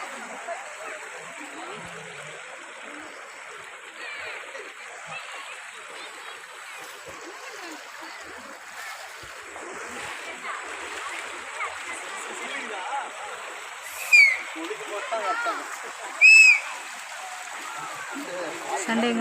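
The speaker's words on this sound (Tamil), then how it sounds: "இந்த குடியேறிக்கு போகிற தண்ணி கொஞ்சம் கம்மியாக தான் போகுது" Rainwater from November rains rushes steadily through the Karpaga stream channel, a constant near wash of flowing water with a couple of brief splashes and faint voices in the background.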